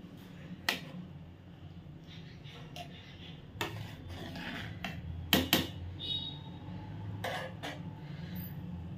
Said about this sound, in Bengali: এবার আমি ঢাকাটা তুলে দেখে নিই চাল ডাল সবজি সেদ্ধ হলো কিনা